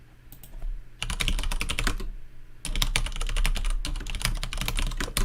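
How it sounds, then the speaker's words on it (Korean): Close, crisp clatter of fingers typing a prompt on a computer keyboard, rapid keystrokes in two bursts separated by a brief pause, with no talk. "그리고 기본적인 프롬프트를 입력을 해보겠습니다."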